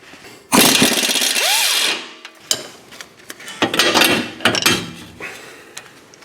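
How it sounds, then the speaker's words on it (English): Removal of an 18mm lower control arm to knuckle bolt on a 2010-2015 fifth-generation Camaro, with a sustained power-tool burst followed by clanking metal tool knocks and handling, close. "we're taking this 18mm bolt from the lower control arm to knuckle"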